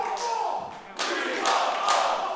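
A wrestling crowd erupts into loud, sustained cheering and shouting during a championship match, the roar swelling in bursts and filling the space.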